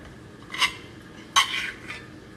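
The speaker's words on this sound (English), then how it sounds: "So I'm just gonna scrape this on up out of here." A utensil scrapes cooked food and leftover oil out of a pan after frying low-carb chicken strips coated in whey protein. Two short, distinct scraping strokes sound at close range with no talking.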